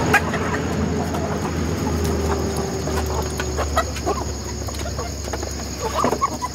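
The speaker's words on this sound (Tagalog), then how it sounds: "tandang." A farm rooster and hens on an ube farm in Sablan mingle in a steady clucking chatter, with occasional sharper calls over a low background hum, heard at moderate distance without speech.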